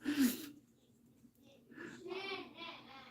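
A single sharp sneeze bursts out at the very start, short and fairly close, followed by quiet breathing and then soft talking from another person.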